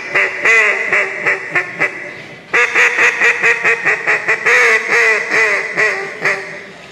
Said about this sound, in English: so all these different calls represent all these different duck calls